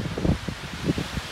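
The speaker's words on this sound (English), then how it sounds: "As you can see, the trees are blowing around." Strong wind blowing through trees on Crane Mountain in the Adirondacks, a close gusty roar and rustle with uneven bursts and buffeting against the microphone.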